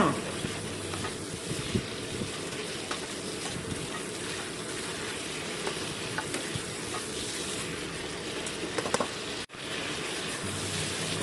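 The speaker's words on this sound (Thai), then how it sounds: "จากนั้นก็ผัดต่อค่ะผัดให้ส่วนผสมเข้ากันค่ะ" Chicken giblets and bamboo shoots with oyster sauce stir-fry in a wok, a continuous sizzle with scraping spatula strokes throughout, briefly cut near the end before the frying noise resumes.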